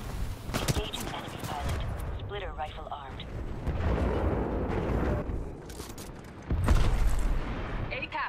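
The Titan's Splitter Rifle fires in Titanfall 2 amid heavy battle noise: sharp, close bursts of gunfire and booming impacts come in uneven clusters, and voices speak between them.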